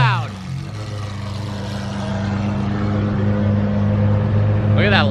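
A loud Liberty Walk-modified Lamborghini Aventador drives by, its deep engine drone building steadily and staying close and strong throughout, with a brief voice at the start and again near the end.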